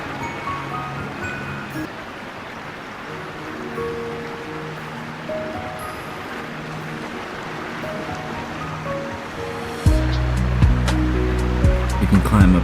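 Water rushes and churns steadily at a waterfall in a Roblox nature game, a continuous broadband wash that grows louder near the end, with faint musical tones in the background.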